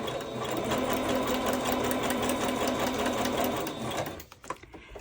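A sewing machine runs a zigzag stitch straight across fabric, a close, steady mechanical whir and rapid needle chatter lasting several seconds before stopping with a few small clicks.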